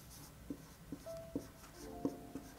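A pen taps and scratches on paper while writing out a maths ratio problem, quiet and close, with about half a dozen distinct strokes spaced through a hushed room.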